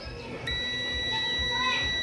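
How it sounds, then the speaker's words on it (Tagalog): A multimeter's continuity buzzer beeps steadily after a short start while testing a TCL LED TV for a short circuit, with faint talk in the background. "Select natin sa buzzer mode."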